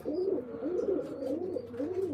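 Pigeons in a loft give soft, rolling coos that repeat steadily in a low throaty pulse, close and fairly clear, with faint chirps above and no talking.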